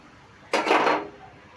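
Nigella seeds dropped into hot mustard oil for tempering give one loud, close sizzling burst lasting about half a second, then fading, with no voices.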